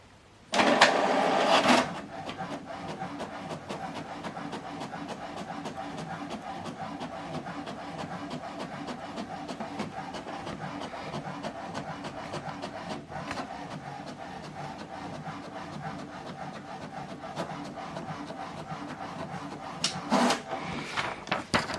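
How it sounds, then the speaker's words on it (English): An HP DeskJet 4120e inkjet printer prints a test page with a steady mechanical whir and rattle for about twenty seconds, bracketed by short louder clunks at the start and end. "Let's check it out by printing our sample document."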